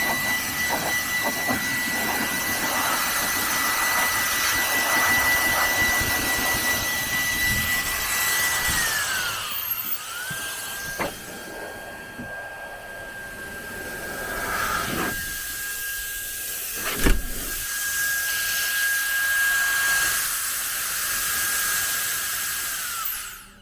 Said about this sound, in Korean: 이 작은데 엄청 강한 바람이 나오거든요